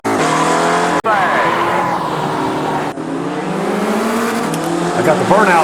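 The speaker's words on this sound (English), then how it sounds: "I got the burnout down." A Spec Racer Ford race car in the iRacing sim game, engine revving hard through gear changes with tire squeal during a burnout, loud and close, with brief cuts in the sound.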